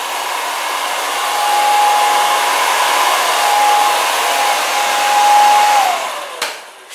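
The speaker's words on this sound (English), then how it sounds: "Now you can grab your heat source. I'm just using a hairdryer." A hair dryer blows with a steady, loud airy roar and a thin whine, warming tint film on reflectors or taillights, then clicks off near the end.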